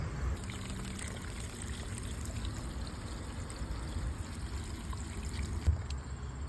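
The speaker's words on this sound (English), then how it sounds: "I'm going to run some water through it just to get out any contaminants" Water trickles and pours through a used 2001 Ford Ranger radiator being flushed of contaminants, a low steady gurgling stream close by with a small knock near the end.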